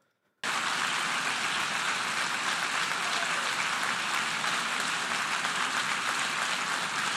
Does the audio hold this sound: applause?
yes